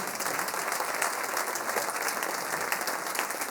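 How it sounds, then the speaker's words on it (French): An audience at an autumn wind-band concert gives sustained, full applause, a thick wall of clapping hands holding steady and loud the whole way through. "Je crois qu'on peut encore toutes et tous s'applaudir."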